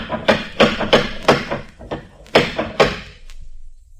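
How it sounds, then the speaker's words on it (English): Loud, heavy knocking on a door in an old-time radio detective drama, a burst of five forceful raps followed by two more after a short pause, close and booming with no talking. "You could have heard that last knock out of the Farallones."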